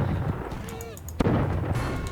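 A cannon fires in Totally Accurate Battle Simulator during a pirate duel: one sharp, booming blast rises out of a dense wash of battle noise, with more rumbling clatter continuing around it.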